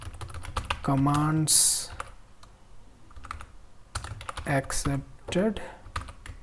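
Rapid keyboard typing during C# programming of a simple command-line application, close and clicky, running under a man's speech that comes in bursts.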